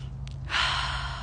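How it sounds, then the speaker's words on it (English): One deep breath drawn in through the nose and mouth, a close, airy inhale rising and holding for about a second over a low steady hum, with no talking. "Deep breath in."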